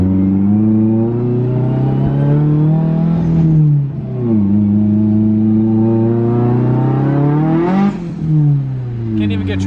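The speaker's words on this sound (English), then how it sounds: "This car is so much faster than Nicole's" A Nissan 240 accelerates hard through the gears. Its engine note climbs, drops at each shift and climbs again, loud and close throughout.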